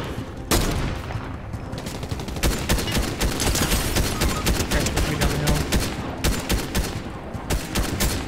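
Heavy sniper fire and other gunfire in the video game Fortnite, a dense, loud stretch of shots and rattling bursts that runs almost the whole time after a brief quiet start.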